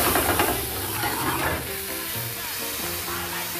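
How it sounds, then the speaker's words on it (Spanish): Vodka poured into a hot frying pan hisses and sizzles loudly at first, then settles into a steady bubbling fry as the alcohol flames up. The sizzling is continuous and close, with no talk over it. "un poquito de vodka, la colocamos en el sartén, retiramos del fuego porque como tiene bastante alcohol"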